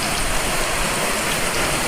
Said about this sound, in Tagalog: Grabe ang lakas na naman ng ulan